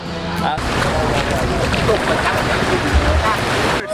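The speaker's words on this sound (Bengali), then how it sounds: "এটা হচ্ছে আমাদের সেই বোট।" A tour boat at Phi Phi Island, Thailand, with a steady rush of waves and wind noise filling the whole stretch, and a person talking faintly under the wash.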